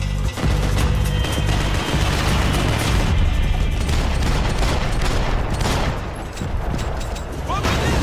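Dense video game gunfire and booming blasts fill the scene loudly and continuously, a chaotic barrage of shots and explosions with a low rumbling underlayer.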